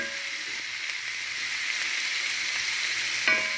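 Chopped onions sauté in a pan for a ground-meat sambosa filling, hissing and sizzling in a steady continuous stream, with a brief clink of a utensil near the end.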